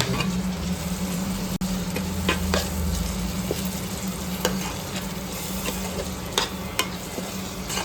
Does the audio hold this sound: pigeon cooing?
no